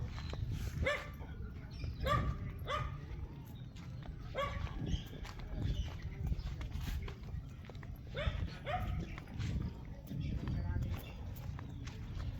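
A dog in Batangas gives repeated short barks in loose bursts across the stretch, moderately close, over a constant low rumble, with people talking at times.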